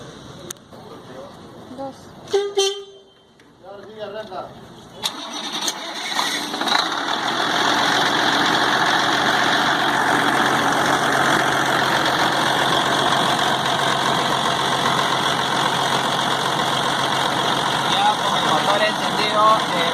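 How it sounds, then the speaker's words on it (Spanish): Car engine started and then idling at low RPM, a steady mid-pitched hum that builds after a brief cranking burst and holds evenly, with speech faintly present underneath. "Ahora vamos a medir en bajas RPM y en altas RPM luego de arrancar el motor."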